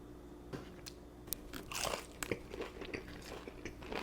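Buldak-sauced Wingstop chicken wings bitten and chewed up close, quiet wet crunches and chewing clicks in an irregular rhythm, no talk.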